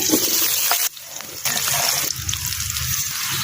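Cooked taro flowers are poured into a sieve beside a clay stove, and the water gushes loudly, breaks off briefly, then resumes as a lighter stream that dwindles to a steady trickling drain.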